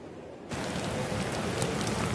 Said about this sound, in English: this rain is coming straight into my face right now